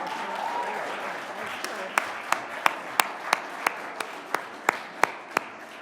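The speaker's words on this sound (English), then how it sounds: "How about another round of applause for Governor Kathy Hochul?" An audience applauds Governor Kathy Hochul at a New York State public announcement, with a soft wash of clapping in the room and a few sharp, louder single claps that repeat toward the end. A voice talks over the start.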